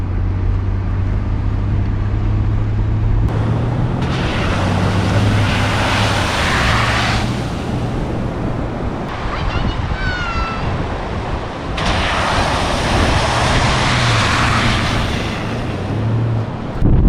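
A vehicle drives through Eli Creek on Fraser Island: a steady low engine drone runs throughout, with loud broadband rushes of splashing water coming in long surges, and a brief high chirp in the middle.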